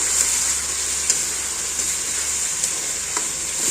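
Ginger, garlic and green chilli paste frying in a pan for chicken korma, a loud continuous hiss close up with a few soft stirring clicks.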